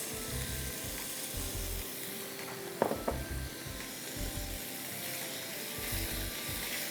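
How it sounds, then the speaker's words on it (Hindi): Minced meat frying in sesame oil with fresh ginger and garlic, a steady low sizzle with occasional stirring and scraping clatter of a utensil against the pan midway, no talking. "कीमे को आपने भूनते रहना है।"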